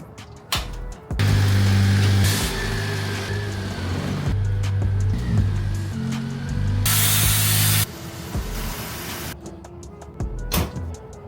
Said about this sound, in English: I need to move the truck up closer, Civic out the way